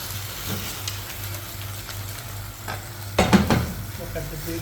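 Beef stir fry sizzles steadily in a pan over a gas flame, a constant close frying hiss with a brief louder burst of stirring near the end.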